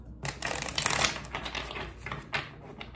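Tarot deck being shuffled by hand, a steady run of riffling, flicking card sounds for about three seconds, close and fairly quiet with no talk.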